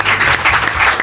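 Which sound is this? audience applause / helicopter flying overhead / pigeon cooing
audience applause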